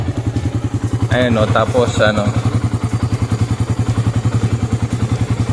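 A 2022 Suzuki Raider 150 carbureted motorcycle engine idles with a fast, steady pulsing beat and light ticking, loud and close, while someone speaks briefly over it.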